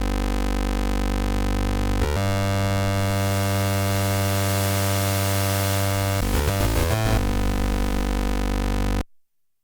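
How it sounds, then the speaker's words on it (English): Arturia PolyBrute 12 synthesizer with its oscillator noise generator engaged: a loud, steady hiss blended with buzzing tones, its color shifting in stages before cutting off abruptly near the end, with no talking. "both oscillators include a noise generator with adjustable color for versatile harmonic capabilities"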